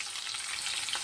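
Chopped onion and green chili pieces fry in hot oil in a pan, giving a steady, close hiss of sizzling with faint stirring throughout this short moment.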